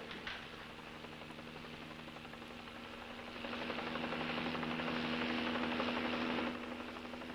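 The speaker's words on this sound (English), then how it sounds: "I could have got that chopper if I had a chance." A helicopter flies overhead during a highway patrol pursuit, a steady rotor and engine drone that swells louder midway and then eases slightly, with no talking.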